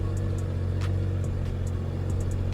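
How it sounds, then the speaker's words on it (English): A BMW E82 135i idling while running rich, a steady low engine drone with an uneven, chugging pulse, close and continuous. "It's super rich, and it's chugging itself. You hear it?"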